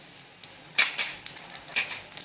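Coriander seeds and cumin crackle in a spoonful of hot oil, a soft continuous sizzle with several bright popping bursts and light spoon taps close by.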